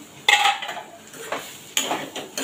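Masala dosa potato filling is stirred in a pan, a spoon scraping and clinking against the metal in several distinct strokes, close and fairly clear, with no talking.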